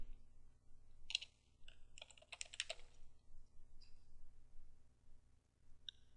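A short command tapped out on a computer keyboard: a few quiet, close key clicks in small clusters over a faint steady hum, no voices.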